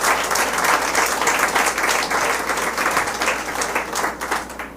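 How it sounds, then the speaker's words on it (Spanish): A church congregation bursts into applause during a sermon, giving dense, sustained clapping from many hands that fills the room evenly and eases slightly toward the end. "Un aplauso"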